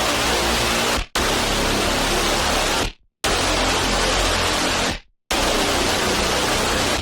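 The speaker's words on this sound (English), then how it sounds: "just a heavy distorted bass synth sound" A heavy, distorted bass synth built from saw waves, produced for a metalcore track, holding loud sustained notes in three long blocks separated by brief silences, smooth rather than punchy, with no fluttering wobble.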